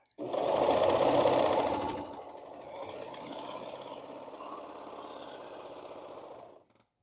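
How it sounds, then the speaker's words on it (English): A serger sewing machine stitches a hoodie up close, running in a loud fast burst for about two seconds, then continuing more quietly and steadily until it stops. "I wish I still had fairy floss in my serger."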